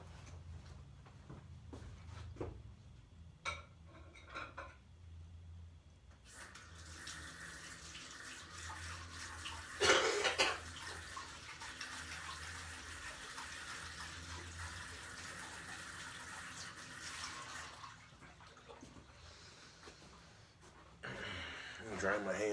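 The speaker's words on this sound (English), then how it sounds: "I'm gonna go put this plate in the sink." Tap water runs into a kitchen sink while a plate is rinsed: a steady broadband splash holding for about ten seconds, with a louder burst partway through, then the flow shuts off. Faint room noise comes before and after.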